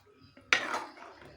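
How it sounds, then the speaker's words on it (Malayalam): A spoon stirs tuna and drumstick curry in a metal pot, a single sharp clink and scrape against the pot's side, close and clear in a quiet kitchen. "ചെറുതായിട്ടൊന്ന് ഇളക്കി കൊടുക്കാം"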